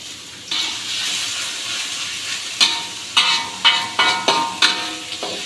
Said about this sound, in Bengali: মশলাটা ভালো করে কষা নিতে হবে